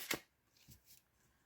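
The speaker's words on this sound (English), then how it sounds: "I'm just shuffling the cards here." Tarot cards give one crisp riffle at the start, then a few soft, quiet taps and slides as the deck is handled, close and without talk.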